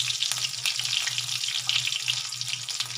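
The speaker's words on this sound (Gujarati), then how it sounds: "આપણે હવે શાકમાં વઘાર કરીશું કારેલાનો" Cumin, chili and curry leaves tempering in hot oil for a bitter gourd curry, a bright crackling sizzle with sputtering pops over a low steady hum, continuous and close, without talk.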